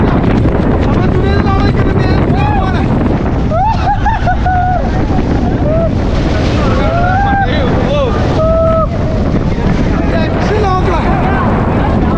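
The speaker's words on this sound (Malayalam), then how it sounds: "എല്ലാവരും സ്റ്റെക്കായിട്ടുള്ളേ, കേറുന്നില്ല ഇറങ്ങുന്നില്ല. അമ്മാതിരി കാറ്റ്." Strong monsoon wind on the Harihar fort trek buffets the microphone in a loud, constant roar, with faint voices and whistle-like tones drifting through it.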